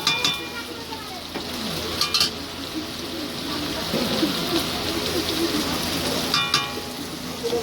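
Ginger paste fries in a pan during a home family cooking session, making a steady sizzle broken by occasional scraping and stirring knocks, close and fairly loud.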